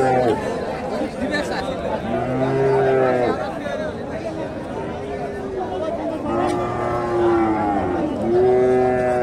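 Friesian cross heifers at the Hasokhali cattle market moo repeatedly in long drawn calls over a busy crowd of people chattering nearby.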